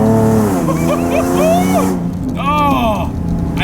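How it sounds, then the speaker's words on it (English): A Nissan 370Z engine revs loudly while accelerating up a narrow canyon road, the exhaust note rising and falling in steady pulls, with a voice speaking over it. "And this car's so loud."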